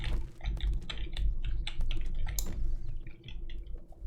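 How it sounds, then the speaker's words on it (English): Computer keyboard typing picked up by a nearby gaming microphone, with rapid irregular clacks and clicks in busy bursts, close and fairly loud, with no voices. "Just have to put your mic a bit further from your keyboard."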